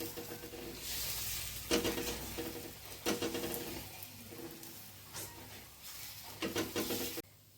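Coconut patishapta batter sizzles on a hot iron tawa as a ladle spreads it round, giving steady frying hiss with repeated scraping strokes.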